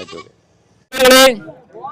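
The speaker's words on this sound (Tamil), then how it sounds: "செம்மறி ஆடு நல்லா வந்து சைஸான ஆடு" A large Mayilambadi cross sheep gives one loud, close, wavering bleat lasting about a third of a second, with people talking around it.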